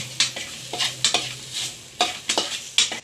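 A utensil scrapes through ginger and garlic in a pan on low flame in quick, uneven strokes, over a soft sizzle of frying.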